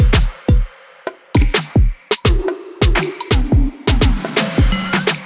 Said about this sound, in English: I'm adding this cool little tom fill that I customly made